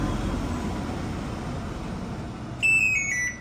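A short series of high electronic beeps from a Sleek Type V electric scooter remote being reset after a battery change sounds near the end over a steady low hum of background noise.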